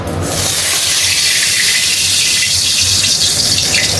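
Bay leaves and dried chillies hit hot oil with a loud, steady hissing sizzle that starts abruptly and carries on evenly throughout, close by and with no voices.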